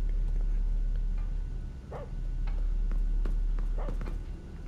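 Dog-like creature sounds in the video game Watch Dogs: Legion, with two short whining yelps standing out over a steady low ambient drone, plus a few faint clicks in between.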